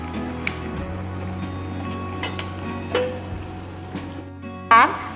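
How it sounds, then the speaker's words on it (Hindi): Taro root (arbi) pieces fry in oil over a medium flame, a steady dense sizzle with occasional stirring clatter and a sharper pop near the end, no voices over it. "बस इतनी इतनी डाल के हम इसे फ्राई करेंगे।"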